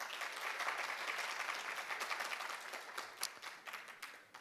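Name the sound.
audience applause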